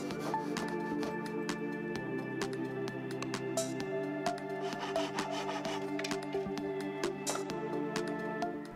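A Suizan Ryoba Japanese pull saw cuts through pallet wood in quick, repeated rasping strokes, close and fairly even in rhythm, with no talking.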